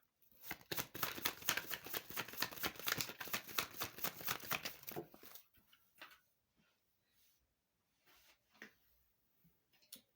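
Tarot cards riffle in a quick, rapid flutter of close crisp snaps for several seconds, then a few soft slides and taps as single cards are drawn and laid down, fairly quiet throughout.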